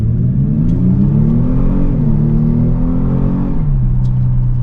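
A 2019 Kia Stinger GT2 engine hums steadily under load as it accelerates, its pitch rising and then dropping with paddle-shifted gear changes of the 8-speed automatic, a close, continuous drone heard from inside the car with no talk.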